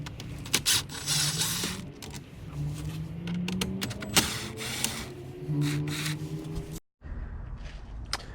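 Small clicks and ratcheting ticks of a T10 Torx bit turning two screws out of a 2020 Silverado dash panel, close and fairly quiet, with a soft mechanical whir and a brief pause near the end.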